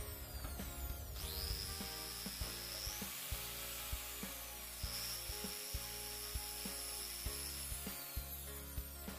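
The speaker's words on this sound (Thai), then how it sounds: "เราก็จะใช้สว่านนะครับเจาะให้เป็นหลุมลงไปนะครับ" A small power drill bores eye holes into a handmade wooden frog fishing lure, whining in two sustained bursts, with light knocks and handling taps of the wood in between; quiet, with no speech.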